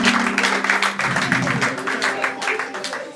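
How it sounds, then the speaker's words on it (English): Audience applause at a live stand-up comedy special, a steady wash of clapping for about three seconds with a low musical tone underneath and some voices mixed in. "A round of applause for him."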